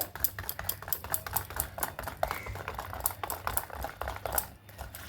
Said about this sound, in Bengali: এরপরে সেই লাল আটাটার সঙ্গে এইভাবে খুব ভালো মতো করে এখানে মিশিয়ে নিতে হবে।